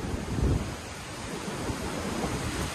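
Rainwater pours over an overflowing dam as a continuous rushing roar, with wind buffeting the microphone, loudest in a short burst near the start; no one speaks.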